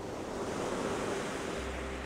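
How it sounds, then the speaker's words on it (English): Ocean waves washing onto a shore as the tide goes out, heard as a steady, continuous rushing surf with no distinct single breaker, alone and moderately faint. "so there's more drama in the waves"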